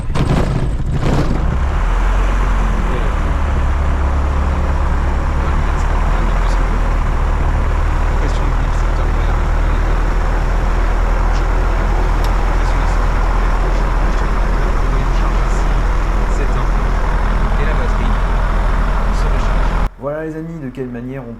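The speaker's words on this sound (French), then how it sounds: "démarrer un avion léger type DR400" A DR400 light aircraft engine cranks, catches and runs at a steady loud roar close by for about twenty seconds, then cuts off abruptly.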